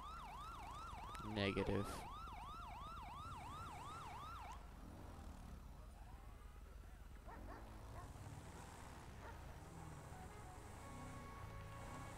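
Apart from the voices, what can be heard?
police siren from a video game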